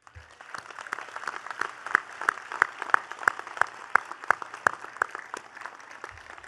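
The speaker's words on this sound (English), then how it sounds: "a round of applause." Applause at a college commencement, fairly faint and sparse, with a steady rhythm of distinct nearby claps standing out over a soft background of scattered clapping.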